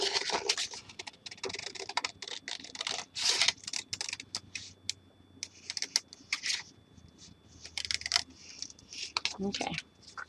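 Scissors snip through paper in quick irregular bursts of crisp cutting and rustling, close by, with short pauses between runs of cuts.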